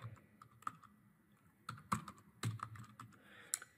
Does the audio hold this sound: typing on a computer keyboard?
yes